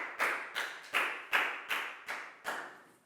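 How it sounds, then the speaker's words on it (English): A student is greeted with about seven sharp, evenly spaced claps, each with a quick decay, coming from a few people close by in a children's English lesson. "Big round of applause for Chu."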